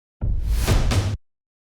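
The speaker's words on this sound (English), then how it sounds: "Don't forget this epic fill before the drop hits." An electronic dance drum fill right before the drop, a dense burst of rapid hits lasting about a second, loud and abrupt, then cutting off to silence.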